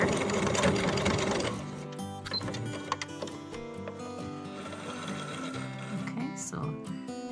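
A sewing machine runs a single straight stitch joining the center pieces of a fabric mask, a rapid mechanical whirring that stops and restarts, with a voice speaking in between.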